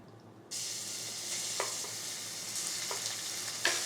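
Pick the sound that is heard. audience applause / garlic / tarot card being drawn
garlic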